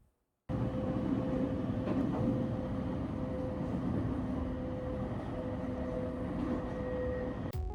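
Inside a moving train in Japan, a steady, loud rumble and rolling drone fill the carriage, with a faint tonal whine holding throughout and no talking.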